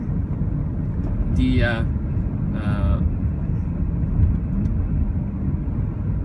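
Inside a moving front-wheel drive Volvo XC90 SUV, a steady low road and engine rumble fills the cabin while someone talks briefly over it.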